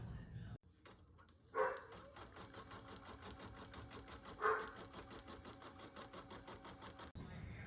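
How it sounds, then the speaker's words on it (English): A home embroidery machine sews a placement stitch for a bear's snout, a fast, even mechanical whir with rapid needle pulses and two louder clunks along the way, starting and stopping abruptly. "So now it's going to do the placement stitch for the snout right here."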